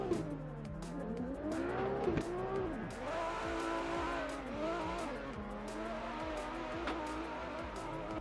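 A Toyota Supra drift car at DMEC Power Park in a drift series qualifying round revs hard and shifts pitch as its tyres squeal and skid through the course, heard from a moderate distance.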